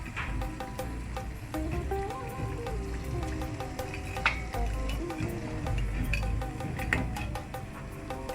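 Rice chakli murukku deep-frying in hot oil makes a steady close bubbling crackle with sharp pops throughout, and occasional utensil clinks against the pan.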